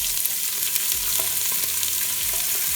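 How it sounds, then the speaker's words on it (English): Chopped leeks saute in olive oil in a pan, giving a steady, close hiss and crackle of frying with light stirring noises and no voices. "We're gonna put 4 tablespoons of olive oil to saute all the vegetables, cook all the vegetables"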